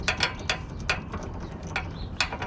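A 6mm Allen key turns the headlight motor of a Pontiac Trans Am, producing a series of crisp metallic ratcheting clicks at an uneven pace, close up with no talk.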